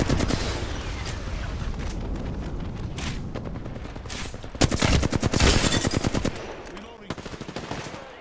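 Gunfire in the battle royale game Apex Legends, repeated rapid bursts of automatic weapons with occasional heavier booms, loud and close, rising in a dense volley midway before tapering into scattered shots, with players talking over it.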